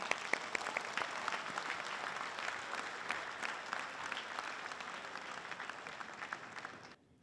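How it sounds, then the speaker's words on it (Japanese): Sustained applause from attendees at a Miyazaki prefectural association world convention, many hands clapping in a dense, even wash that holds for about seven seconds and then stops abruptly. "拍手にて皆さんにお礼の気持ちを表したいと思います"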